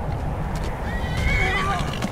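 A horse neighs in a tabletop game session, a rising, wavering whinny over a low rumbling background and hoof-like clopping, fairly close and prominent.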